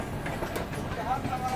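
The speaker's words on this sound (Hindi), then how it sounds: "ये दोस्तों इटारसी के प्लेटफॉर्म नंबर 3 पे हमारी ट्रेन घुस रही है।" The Swarna Jayanti Express rolls into platform 3 at Itarsi station with a steady rumble and wheel clatter, and a thin metallic squeal rises near the end.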